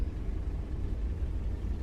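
Engines of a Junkers Ju 52 trimotor revving while held on the wheel brakes in Microsoft Flight Simulator 2020, a steady deep droning rumble with no breaks, loud and continuous.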